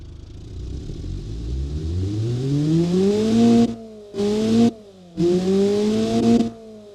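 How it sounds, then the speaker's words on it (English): A four-cylinder hybrid hatchback engine in the Automation car-building game revs up steadily and loudly, rising in pitch, then cuts and resumes in two short bursts, alone with no voices. "let's get to hear what this engine sounds like just for the heck of it"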